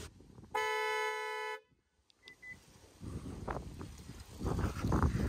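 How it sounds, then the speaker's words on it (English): A 2023 Hyundai Palisade SUV's horn gives one loud, steady honk lasting about a second as a rear occupant motion alert, followed by quiet and then outdoor ambient noise with rustling and footsteps. "after you lock it, if it detects motion after a few seconds, it'll honk and alert you there's something back there or someone back there"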